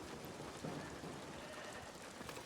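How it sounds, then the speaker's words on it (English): Steady rain falls in the Foundation city-building game, a constant even patter close and moderately loud for the whole stretch, with no talking. "as you can see, it is still raining"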